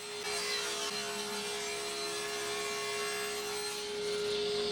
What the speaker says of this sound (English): I'll just use this piece of oak and cut a strip